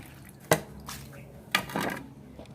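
Water splashing and dripping while a caladium plant pot is rinsed, two sharp knocks followed by short sloshing splashes, close and moderately loud with no voices.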